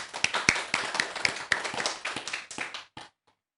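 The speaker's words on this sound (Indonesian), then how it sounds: "Beri tepuk tangannya yang meriah." A small audience at a school gathering claps for about three seconds to welcome the chairman of a junior high school committee, the sharp, rhythmic hand claps close and distinct before fading into silence.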